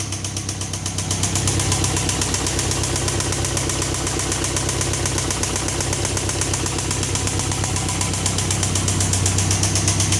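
A 1999 Mazda B2500 pickup with a 4-speed manual, first start after sitting for half a year, idles steadily with a close, loud mid-pitched engine rumble and even rhythmic pulsing throughout, with no talking.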